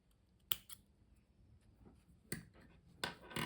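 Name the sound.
scissors cutting off the crochet yarn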